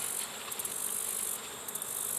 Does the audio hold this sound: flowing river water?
no